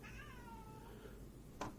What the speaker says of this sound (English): The cat is really nervous.